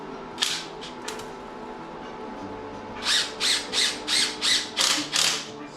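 A ratchet wrench tightening a fitting on a brush fire setup, with a few isolated clicks early on and then a steady run of about eight rhythmic ratcheting bursts, close and clear with no talking.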